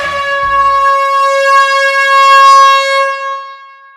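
A loud, sustained air horn blast holds steady for about three seconds and then fades, with a short low thump at the start.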